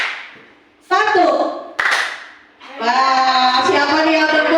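During a teachers' concentration clapping game, a lone clap or two snaps out sharply, briefly breaking up the spoken talk of the game leader around it.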